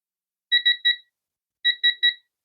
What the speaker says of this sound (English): It'll let you know when you're getting close, then it'll do a solid beep.